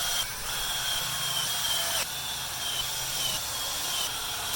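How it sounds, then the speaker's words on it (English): Power driver whirring as it shoots screws into a wooden A-frame for a DIY Jeep Wrangler hardtop lift hoist, with short high-pitched runs that stop and restart, close and fairly loud. "Time to shoot more screws."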